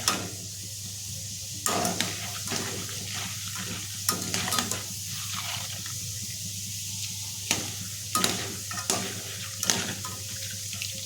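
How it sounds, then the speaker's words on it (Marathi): Roasted chana dal frying in oil for corn chivda, a continuous sizzle with occasional sharper clinks and stirring bursts, heard close with no speech. "आता इथे आपण चणा डाळ जी आहे भाजलेली ती सुद्धा ठेवून आपण तळून घेणार आहोत"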